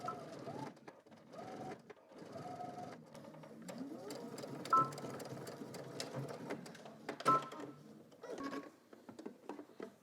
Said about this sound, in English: we're just going to top stitch across the pocket